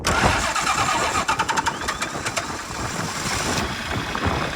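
An old diesel farm machine engine cranks with a rapid run of rhythmic turnover pulses, then catches and settles into a loud, steady, clattering idle close by.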